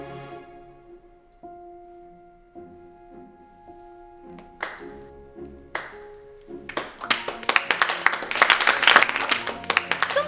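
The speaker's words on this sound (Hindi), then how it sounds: "तालियां क्यों बजा रहे हो?" Students in a school setting start with a few scattered claps that build into loud, dense applause, the sustained clapping swelling and peaking toward the end after some quiet speech and isolated taps.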